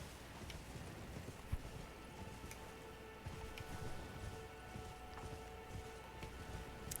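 Horse hooves clip-clopping in Elden Ring, a quiet steady rhythm of footfalls with a few sharper knocks, set low under faint game ambience.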